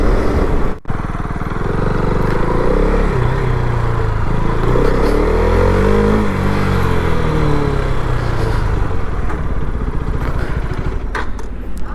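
KTM Duke 250 gen 3 motorcycle being ridden, engine loud and close with a steady drone that rises and falls as it accelerates, with wind noise throughout.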